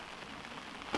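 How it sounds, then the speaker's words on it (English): Rain falling on a greenhouse roof, a dense steady patter close around, with one slightly louder splash of drops near the end and no voices. "Hopefully the rain isn't too loud."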